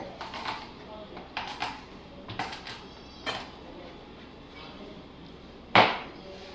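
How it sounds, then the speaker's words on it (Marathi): Four or five garlic cloves get crushed for a chicken curry tempering, heard as a series of light, sharp pounding knocks that grow louder and end in one sharp strike, with speech over quiet kitchen background. "मी थोड्याशा चार पाच लसणाच्या पाकळ्या घेतल्या त्या ठेचून घ्यायच्या"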